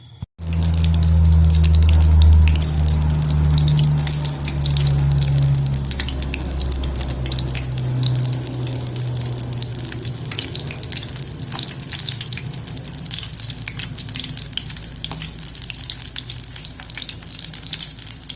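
A whole fish frying in about a cup of hot oil, a loud continuous bubbling sizzle with a low rumbling hiss at the start that settles into steady crackle, with no voices.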